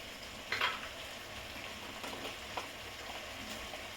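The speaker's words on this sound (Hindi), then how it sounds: "गैस को मैं अब हाई फ्लेम पर कर रही हूँ। इसमें अब टमाटर, चारों तरफ अच्छी तरह मैं फैला देती हूँ।" Tomatoes sizzle softly in a pan over a high flame while being spread around, with a low, steady frying hiss and a few brief scraping stirs.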